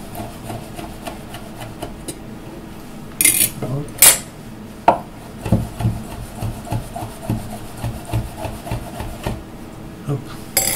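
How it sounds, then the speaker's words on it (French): An Extrema Ratio knife chops food into small pieces on a wooden board, making a series of quick, close knocks and scraping strokes at an irregular pace, sometimes alone and sometimes under brief speech. "Et on va les couper en petits morceaux."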